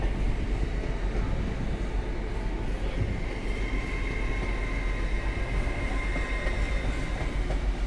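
A train pulls out of York station, producing a continuous, fairly loud rumble of wheels and carriages that holds steady without any talking.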